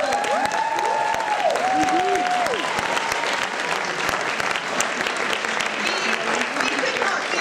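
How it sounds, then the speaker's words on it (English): A large audience applauds a host high school at a speaking challenge final, a steady, loud roar of clapping with some whistle-like tones and murmuring voices in the crowd. "Please, a huge round of applause for Regent High School for putting this together."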